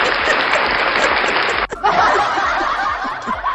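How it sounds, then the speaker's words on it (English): A studio audience applauds in a dense, steady burst mixed with laughter, briefly dropping out for a moment before resuming at full strength. "give me a round of applause"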